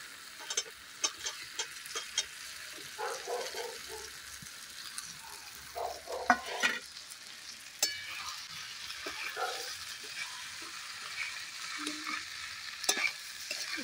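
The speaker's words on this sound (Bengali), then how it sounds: "দিয়ে দেবো এর মধ্যে ভেজে রাখা সমস্ত সবজিগুলো, দিয়ে ভালোভাবে কষিয়ে নেব।" Mixed winter vegetables are stir-fried in spice masala with a faint sizzle under a steady series of close spatula scrapes and taps against the pan, and no talk.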